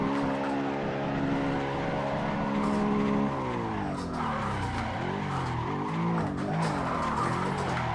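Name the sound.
car drifting, tires squealing, in Assetto Corsa video game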